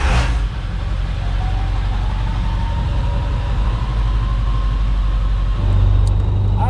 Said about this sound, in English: I just don't get tired of that turbo. Sounds so good.